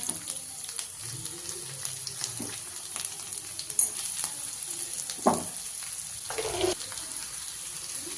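Garlic and onion frying in a little oil in a pan, a steady soft sizzle with occasional louder stirring scrapes and spatters, close by and without talk.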